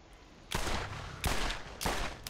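Gunfire in the video game Borderlands: three sharp, loud bursts about half a second apart, each followed by a short rumbling decay, with no talk over it.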